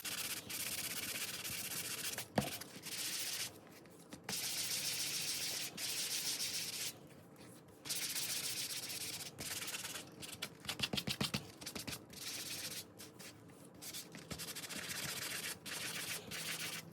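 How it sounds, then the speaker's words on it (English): Paper paint strips for collage being sanded by hand, with close repeated rasping strokes in bursts separated by short pauses, heard alone without talk. "so let us go ahead and sand these"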